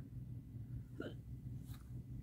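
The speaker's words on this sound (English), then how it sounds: "I got hiccups now." A single faint hiccup breaks a low, steady room hum indoors, followed a moment later by a softer second catch of breath.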